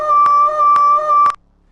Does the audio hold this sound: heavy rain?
no